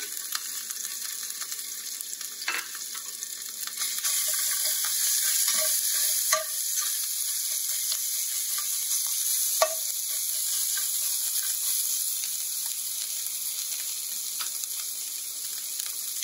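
Ginger garlic paste and chilies fry in a pan for chickpea masala, a steady hissing sizzle that runs throughout, with a few clinks and stirring scrapes rising above it, up close.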